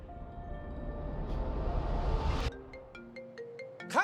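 A mobile phone ringtone plays during filming, a sustained synthetic tone that swells and then breaks into a run of short repeating beeps before a sudden rising chime at the end.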